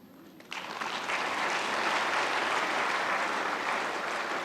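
Audience applause at a National Commission Foundation Day celebration, breaking out abruptly after a quiet opening and holding as a dense, steady clapping from a large crowd for several seconds.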